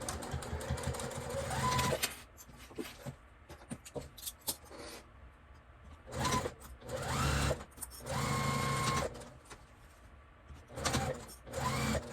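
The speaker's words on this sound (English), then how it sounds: "I just like to backstitch over it just to make sure" A sewing machine backstitches through a dog treat pouch, running in several short bursts of steady mechanical stitching separated by brief pauses, close and fairly quiet.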